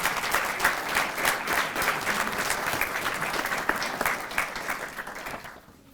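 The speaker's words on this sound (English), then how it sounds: "please give all of our promotees a round of applause" A room of attendees at a police promotion and swearing-in ceremony gives a round of applause, dense steady clapping that carries evenly and then fades out at the end.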